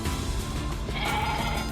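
A goat bleats in NieR Replicant, a wavering nasal cry over a steady game background ambience, moderately loud and close.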